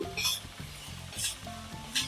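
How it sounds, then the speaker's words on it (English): Steady sizzling of finely sliced onions frying on medium flame in a pan, with soft periodic scraping bursts as they are stirred, under a low background hum. "Keep your flame on medium as you're frying the onions"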